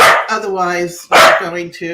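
A dog barks indoors, sharp loud close barks mixed in with a person talking over them.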